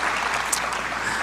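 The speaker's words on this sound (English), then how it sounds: "Let's give a round of applause to Pak Dino and friends." Brief, steady applause from a conference audience for the organizers at an ASEAN people's conference, a dense wash of clapping filling the short moment.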